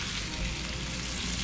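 Psyllium-battered Korean-style food hitting hot oil, giving a steady, bright sizzle and crackle that fills the space evenly, close and continuous without a break.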